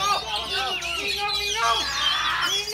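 Whistled chirps of a kacer (magpie robin) sing at a songbird contest in Pangandaran, the bright phrases mixed with crowd chatter and a voice over loudspeakers.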